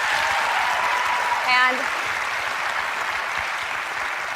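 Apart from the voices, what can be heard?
audience applauding Jane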